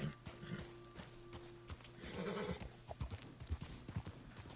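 A Rose Grey Arabian horse in Red Dead clops along with irregular, close hoof strikes. Midway it gives a short whinny, and the hooves then pick up into quicker beats.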